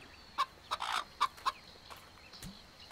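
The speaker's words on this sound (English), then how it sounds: "Hi, chickens." Chickens cluck in the video game Fable Anniversary: four short, fairly close clucks come in quick succession early on, followed by quiet ambient background with no talk.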